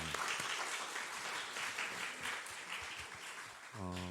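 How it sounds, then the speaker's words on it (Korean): Church congregation giving a big round of applause for the pastor after a sermon at a monthly prayer meeting, a dense sustained clapping that carries on steadily, with a brief tonal sound entering near the end. "우리 말씀 전해 주신 목사님 위해서 큰 박수 한번 해주시겠습니다."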